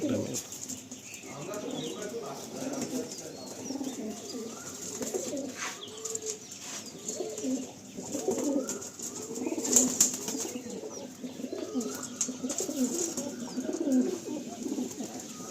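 Pigeons in a loft in Behala give soft, repeated cooing calls, with occasional wing flaps and faint background voices.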